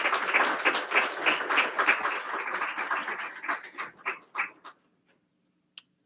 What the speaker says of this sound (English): give another round of applause for such a fantastic